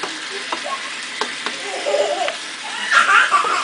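A salmon fillet frying in a pan after being flipped gives a bright, close sizzle that swells near the end, with a few scraping clicks of the spatula and light talk and laughter mixed in.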